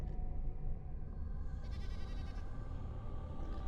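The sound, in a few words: goat bleating in Dragon Age: Origins video game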